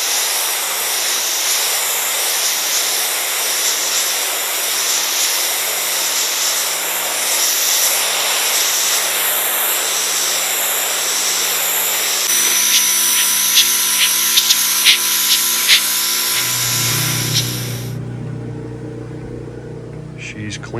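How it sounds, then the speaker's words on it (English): A compact 1600 PSI pressure washer cleaning a boat's non-skid deck during storm repairs, running as a steady loud hiss and motor drone for most of the stretch before cutting off, with a voice talking over it. "Little package, 1600 PSI pressure washer."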